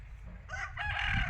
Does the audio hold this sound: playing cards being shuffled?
no